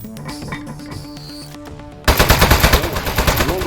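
A robot's rapid-fire shooting in the video game Aperture Desk Job bursts in after a stretch of tonal game music, a fast loud string of shots repeating steadily to the end.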